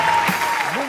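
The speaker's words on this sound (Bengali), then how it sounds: "আমাদের তিন বিজ্ঞ বিচারকের জন্য জোরে করতালি" A studio audience at a Bangladeshi TV comedy reality show claps for the three judges, a brief burst of applause under a host's voice.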